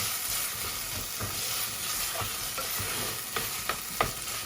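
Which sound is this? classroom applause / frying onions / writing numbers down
frying onions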